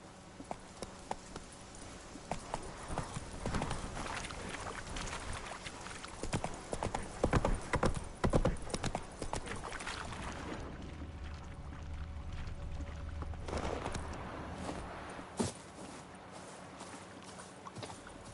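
Horse hooves clip-clop in The Witcher on PS5, a steady walking rhythm of clear, fairly close hoof strikes that bunch up and grow louder midway, with an occasional faint watery swish in the background.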